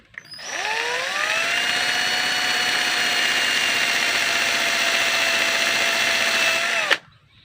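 A powered tool scrapes galvanized coating off metal before soldering, a loud continuous whine that spins up, holds steady for about six seconds and then cuts off abruptly.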